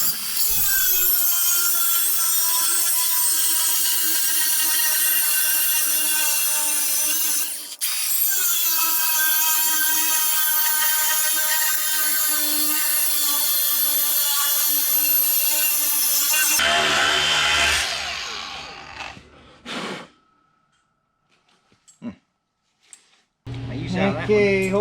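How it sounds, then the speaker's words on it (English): A power cutting tool grinds through old welds on a 385 cultivator frame, a loud, steady high whine that runs for about seventeen seconds with one brief dip, then stops and gives way to scattered clanks and metal handling. "I'm getting really tired of cutting welds already."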